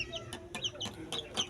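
Two chicks, a Dumputay and Tanaka crossbreed, peep in quick, bright repeated chirps, close and fairly clear over a faint low background.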